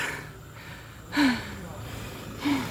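Heavy, breathless panting from a man worn out after hard work loading palm fruit onto a Toyota Revo 4x4 pickup, with two louder gasping breaths standing out against steady background noise.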